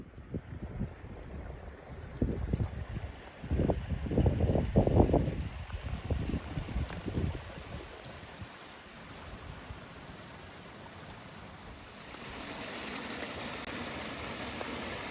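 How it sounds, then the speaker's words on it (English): Water runs through a Peak District clough with a continuous broadband wash, beneath close rustling and crunching footsteps early on, swelling somewhat louder toward the end. "I can hear flowing water."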